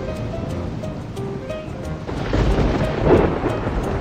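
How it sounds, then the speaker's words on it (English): Storm at sea in an animated Antarctica cartoon: a loud rumbling wash of waves and wind that swells into a heavy thunder rumble midway, continuous and close. "A storm is coming."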